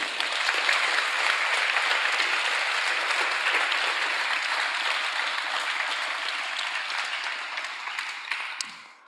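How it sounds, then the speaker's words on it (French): A long, sustained round of audience applause for the winners of the Pacific Data Viz Challenge 2024, dense and even before gradually thinning and fading out at the end. "Je vous avais dit que ce serait long les applaudissements"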